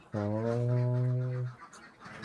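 A laying duck in a village duck pen gives one close, loud, drawn-out honking call lasting over a second, followed by quiet pen noise.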